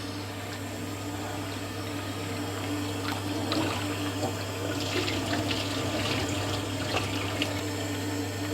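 Split chickpeas (chana dal) are rinsed in running water in a home kitchen, giving a steady splashing and trickling over a low, constant hum.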